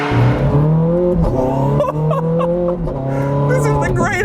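A Ferrari 430 Scuderia driven hard, its engine droning at high revs with pitch rising and dipping through gear changes, tires squealing loudly underneath, sustained and close throughout.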